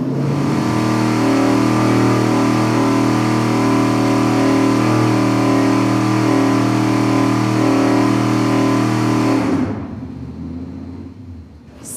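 Engine held steady at 4,700 RPM on a dyno during an iron versus aluminum cylinder head test, a loud sustained drone for about nine seconds before the revs drop away abruptly toward idle.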